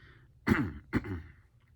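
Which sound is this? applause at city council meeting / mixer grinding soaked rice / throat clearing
throat clearing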